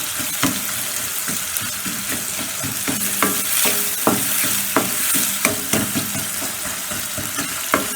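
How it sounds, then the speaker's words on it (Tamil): Ingredients for goat blood pepper fry sizzle in a hot pan, a continuous frying hiss punctuated by regular scraping stirs and clinks of a spatula, close and alone. "இது நல்லா வதங்கட்டும்"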